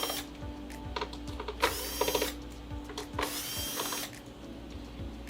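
Power drill or driver backing out the screws on the rear panel of a Sony XBR-55X900C / XBR-65X900C television, heard as several short whirring bursts with brief pauses between them, fairly close and alone.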